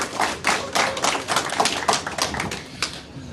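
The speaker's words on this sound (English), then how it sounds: "can everyone just please give them a round of applause?" Scattered applause from a small audience at a corporate networking event for a basketball association, with uneven hand claps running for a few seconds at moderate level.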